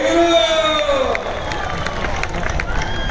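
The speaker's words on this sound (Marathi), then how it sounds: "टाळ्या बघा टाळ्या" A dense crowd at a wrestling bout cheers and claps loudly, a broad roar of hands and voices with a whistle-like tone at the start and an announcer talking over it.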